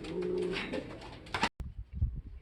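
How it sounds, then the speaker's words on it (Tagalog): Racing pigeons kept for a derby coo in low, steady murmurs, fairly close, followed by a few soft thumps and rustles. "Ayan yung anim natin na ibon."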